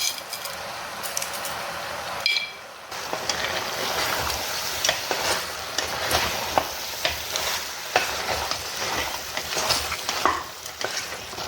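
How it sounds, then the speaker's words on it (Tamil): Country chicken curry sautéing in a pan with a continuous close sizzle, broken by repeated scraping stirs and light clinks of a utensil against the pan, with no talking. "கறி நல்லா இது மாதிரி வதக்கணுங்க."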